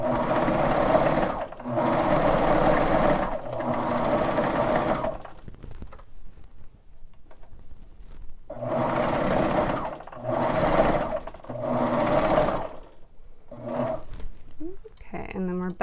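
A Baby Lock Vibrant sewing machine runs in loud, steady bursts of several seconds each, with short pauses between them and a few quick stitches near the end, while stitching toddler pajama shorts.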